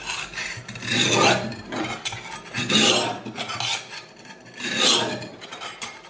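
A shears blade scraped along a sharpening stone in three slow, rasping strokes, each swelling and fading, close and fairly loud with no voices.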